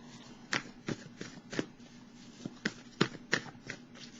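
Tarot cards are shuffled by hand in a series of quick, close riffling bursts, about ten sharp flurries at uneven intervals with no talking.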